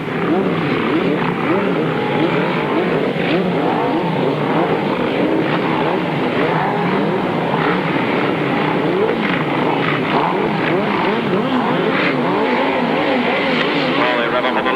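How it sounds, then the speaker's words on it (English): Grasstrack sidecar motorcycles, led by a Kawasaki ZX10, race at a 1993 Staplecross meeting, a continuous loud roar of several revving engines close by while a commentator talks over it throughout. "Coming up and Trevor Banks on the Kawasaki ZX10. Get into the first turn first. Two Kawasaki's leading then"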